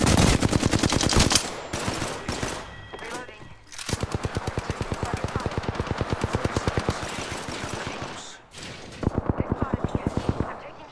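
Rapid automatic gunfire in the video game Apex Legends, sustained bursts of sharp evenly spaced shots separated by brief pauses, loud and close, with a voice speaking in between.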